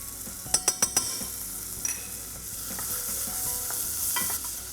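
Finely chopped medium onions go into a hot pan for a chicken korma, with a few quick scrapes and clatters of stirring up front, then a soft, continuous sizzle underneath.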